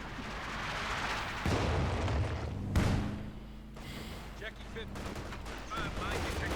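A light infantry gun fires in the video game Company of Heroes 2, with a sharp report and rumbling blast amid distant battlefield gunfire, under someone talking.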